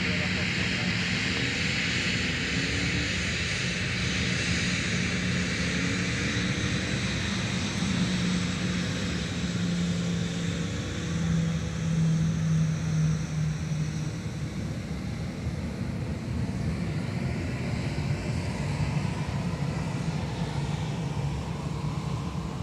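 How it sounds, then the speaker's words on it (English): A Delta Airbus A321 jet on arrival at Minneapolis–St. Paul airport in the evening gives a constant broad engine roar with a low droning hum, loud and steady throughout the clip. "So here comes Delta Flight 2877 coming in from Denver, A321."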